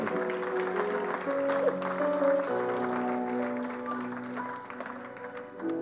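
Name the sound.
church congregation applauding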